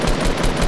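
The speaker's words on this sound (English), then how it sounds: "How do you guys like the FAMAS? Super OP." A FAMAS assault rifle fires a rapid automatic burst in a video game, loud and continuous with no gaps.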